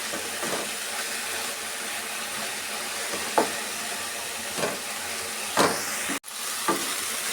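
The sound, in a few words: mint chutney ingredients frying in oil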